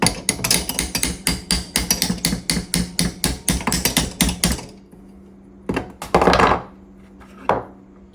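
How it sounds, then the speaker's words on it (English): A hammer strikes the door lock actuator inside a 2004-2006 Scion xB door, producing a quick, steady run of loud metallic knocks for several seconds, then a pause and a few scattered thuds. "you can take a hammer and kind of hit up"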